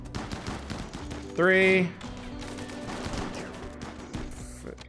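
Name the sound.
gunfire in Rimworld video game combat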